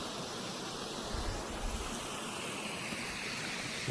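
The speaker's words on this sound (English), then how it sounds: "It's a badass waterfall coming down the mountain there." A waterfall on the Racing River pours down a mountainside, producing a constant, dense rushing roar that fills the whole moment without letting up, with no voices.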